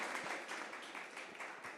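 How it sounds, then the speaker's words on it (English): An audience claps together in a room, a steady patter of applause at a moderate distance that holds through the whole moment without any voices. "Yeah, you can clap for that one."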